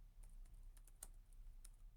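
A kubectl command is typed on a computer keyboard, a quick run of light, irregular key clicks, close but faint, with no talking.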